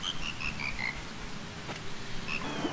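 Big frogs in The Legend of Zelda: Majora's Mask croak in a quick run of high, pitched ribbits that descend in sequence, then two more calls near the end over a low ambient game background.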